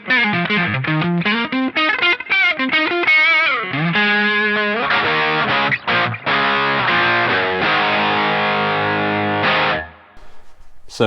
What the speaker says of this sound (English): then flip over to Distortion.